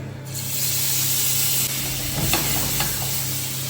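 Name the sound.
marinated flathead fish frying in oil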